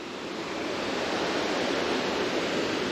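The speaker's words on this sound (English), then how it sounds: "Beautiful waterfall right there." Rushing water from a waterfall seen from above during a Honda XR650L motorcycle ride, a steady, loud broadband roar that fills the scene continuously without a break.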